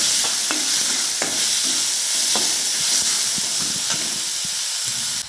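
Crushed garlic and finely chopped onion hit hot oil for baingan bharta, a loud, continuous sizzle and hiss with occasional scraping clicks of stirring, no voices.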